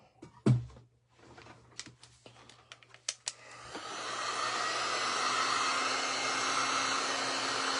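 A hair dryer switches on after a few clicks and handling knocks, blowing a steady whooshing hiss at close range to dry a craft figure, running on alone to the end.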